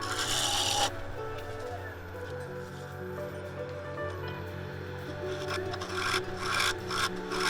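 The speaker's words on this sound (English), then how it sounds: "Just going into a shear, getting those beautiful little wispy shavings off there." A French bowl scraper takes a shear cut across a redgum and epoxy bowl on the lathe, giving a steady rasping scrape over the low hum of the spinning machine.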